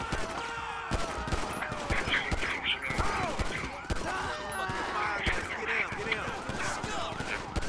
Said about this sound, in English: Why did they start shooting again?